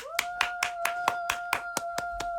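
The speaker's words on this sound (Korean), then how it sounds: "박수로 환영하겠습니다." A single person claps to welcome a guest on a casual Instagram live radio segment, about ten crisp, evenly spaced claps close to the microphone over a steady background tone.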